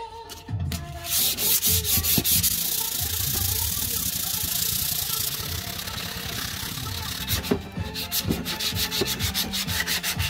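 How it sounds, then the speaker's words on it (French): Sanding a Leovinci exhaust pipe for a Peugeot 103 moped: a loud, steady abrasive rubbing with rhythmic strokes running throughout, close up, with no talking. "Et on est parti pour un peu de ponçage."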